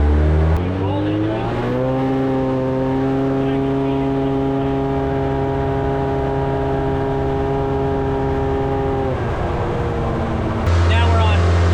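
Speed UTV engine on a dyno at full boost, a loud sustained high-revving drone with steady harmonics, dropping briefly at the start and near the end between pulls, with voices talking over it.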